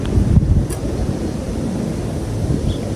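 Wind gusting through a home garden, a loud rumbling buffet against the microphone with low blustery surges that rise and ease over a few seconds, no speech.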